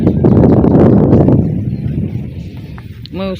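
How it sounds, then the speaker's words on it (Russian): Cold wind gusts across a fishing lakeshore, a loud broadband rush that buffets the microphone for the first two seconds and then eases to a lower, steadier blow. "Ветер холодный."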